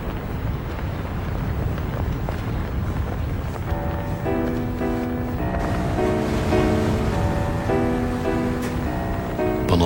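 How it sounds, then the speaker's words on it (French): Wind rushes and waves wash against a boat at sea, a continuous roar of surf, with clinking rigging or tonal creaks emerging midway. "Le vent se lève."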